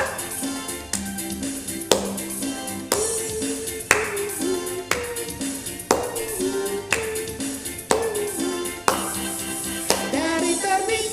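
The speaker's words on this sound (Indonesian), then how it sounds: "Sambil tepuk tangan ya." Rhythmic group clapping at a steady beat, roughly one clap per second, under a children's worship song being sung, with music playing along throughout.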